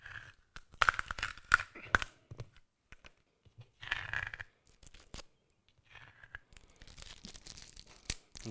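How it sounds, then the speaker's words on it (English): Masking tape peeled off the edges of a trompe l'oeil painting, heard as a few close, crisp tearing rips in quick bursts, then quieter rustling and later strips separated by short silences. "Okay, we'll just take the tape off."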